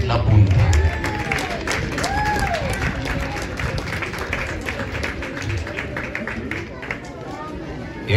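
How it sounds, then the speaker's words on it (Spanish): A crowd at a charreada rodeo claps and applauds steadily in a large space while a voice talks over it. "Y ahí tenemos los aplausos del respetable público"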